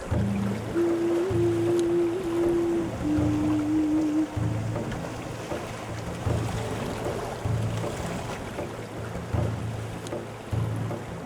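A boat motor drones steadily with rushing water around it as the boat heads upriver against the current toward Pagsanjan Falls, while a couple of sustained tonal hums rise over the engine early on; no voices.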